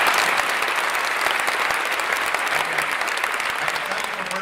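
Steady, dense applause from a conference audience at the closing keynote of CHI 2023, honoring the organizers; the clapping fills the room evenly and continuously, with no voices standing out.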